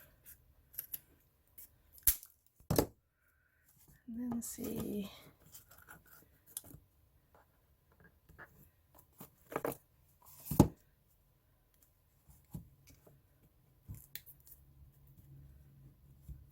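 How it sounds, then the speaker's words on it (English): Several sharp scissor snips with a short rustle of paper, scattered irregularly across quiet, with a brief murmured voice. "Just with scissors."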